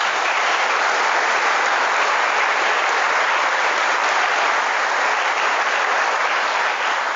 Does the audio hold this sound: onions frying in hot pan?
no